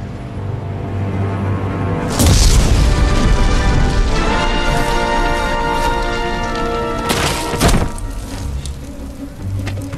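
Explosions and crashing debris fill a factory being destroyed in The Simpsons Game, with a sustained loud rumble and two sharp blasts, one near the start and one later, over a steady low drone.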